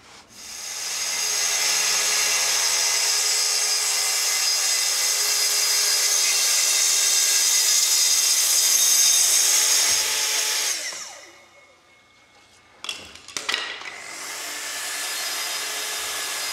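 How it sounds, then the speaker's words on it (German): A saw cuts off excess wood from a wooden courtyard gate in a joinery workshop, a steady, loud rasping drone for about ten seconds, then stopping, followed by a few brief knocks and a low background hum. "Überstehendes Material wird abgesägt."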